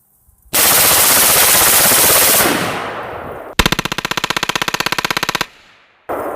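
An AR-15 rifle fitted with a modified LARB buffer bumper on a standard H buffer fires outdoors. A loud roar of noise is followed by a rapid, evenly spaced burst of about twenty close shots, then silence and a final blast.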